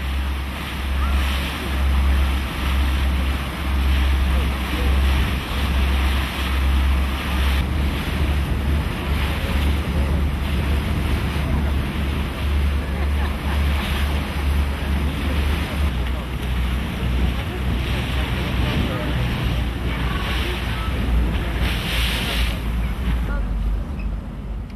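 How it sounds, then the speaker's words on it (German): Sea surf and gusting wind roar steadily at a harbour where boats leave for the Calanques in Provence, with low rumbling wind noise on the microphone throughout. "Im 20-Minuten-Takt legen im Hafen Boote zu den Calanques ab."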